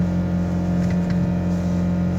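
A 2017 Ford Focus RS engine held at a steady high rev by a stuck throttle pedal, a loud continuous drone with a constant pitch and no rise or fall throughout.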